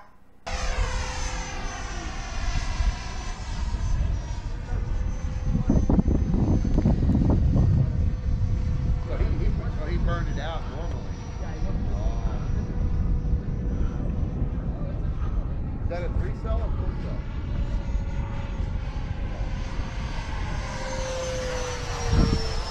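A Freewing F-22 Raptor model jet with a 90mm electric ducted fan flies on its maiden flight, giving a steady, loud whining roar that swells and recedes as it passes, with wind buffeting the microphone.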